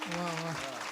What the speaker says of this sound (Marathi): एकदा जोरदार टाळ्या वाजवा बरं